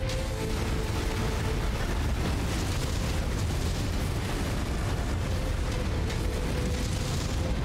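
Sustained barrage of AC-20 autocannon rounds slamming into a mech in Mechwarrior 5, a dense continuous roar of heavy booming impacts and blasts with no letup, loud and close, no voices.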